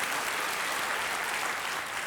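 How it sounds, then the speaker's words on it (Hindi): A steady wash of TV game show studio audience applause, many hands clapping together at an even, dense level throughout, with no voices. "तालियों के साथ इनका स्वागत हम करते हैं आज के हमारे कार्यक्रम में।"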